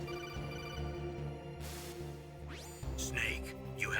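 A codec call rings in the video game Metal Gear Solid, a repeating electronic ringtone chirping over game sound, followed by brief sweeping electronic effects while someone speaks over it.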